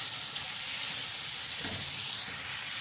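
Boiled pasta with chicken and vegetables fries in an oiled pan, giving a loud, continuous bright sizzle with a brief stirring scrape midway.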